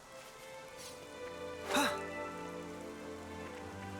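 Rainfall in Xenoblade Chronicles, a soft continuous patter of drops under a sustained tonal musical backdrop, with a brief brighter accent near the middle.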